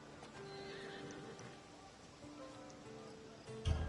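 A horse in the Assassin's Creed Odyssey game gives a faint, distant whinny against a quiet outdoor ambience, followed near the end by a brief thud of hooves, with no speech.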